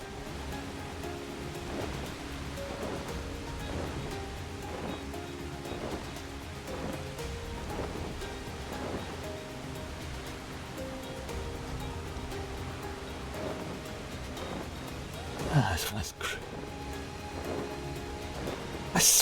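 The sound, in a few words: rain in video game Final Fantasy XIV Dawntrail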